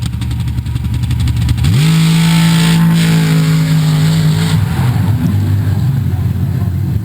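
A modified-class drag racing car launches off the line at a Steelville race, its engine note jumping into a loud, sustained high-revving drone that holds for several seconds before tapering off, close and dominant over a noisy outdoor backdrop.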